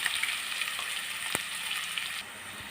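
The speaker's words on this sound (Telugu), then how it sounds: "ఆనియన్ వేగుతున్నాయి కదండి" Onions frying in hot oil with cumin and curry leaves for a tomato drumstick curry: a steady, fairly quiet hiss and sizzle with a brief stirring knock.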